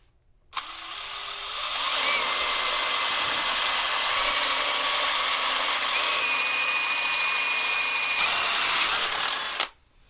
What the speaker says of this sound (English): make a hole through it first with like a pilot hole, and then enlarge it, finishing up with this drill bit